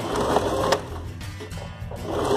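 A sewing machine runs steadily while stitching a ruffled sleeve, a continuous close mechanical whir with slight shifts in speed and no talking.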